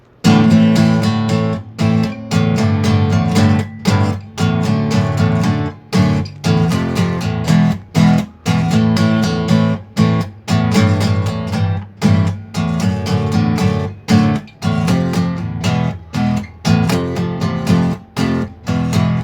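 Hard, driving guitar chords strummed loudly and repeatedly in a steady rhythm, with brief choppy gaps between strums, close and full.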